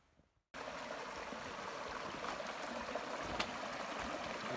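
Small mountain brook in the Adirondacks near its source, a steady close hiss of trickling water starting abruptly after a brief quiet moment, with no voices.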